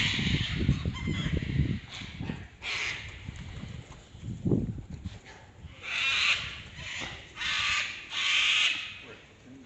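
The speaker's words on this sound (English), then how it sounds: "White cockatoo, anybody?" White cockatoos in the main street of Katoomba, New South Wales, give harsh, raucous screeches in repeated bursts, several loud calls from nearby, with quieter street sounds and a brief voice between them.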